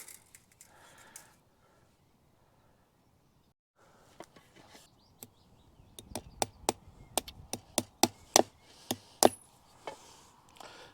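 Quiet at first, then a new hammer strikes wood during an electric fence wire install in a quickening series of sharp knocks, some louder than others, with no voices.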